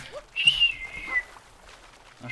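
A man whistles a single sharp, high rising-and-falling note lasting under a second, close to the microphone, amid quiet room noise.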